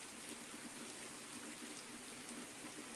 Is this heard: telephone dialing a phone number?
no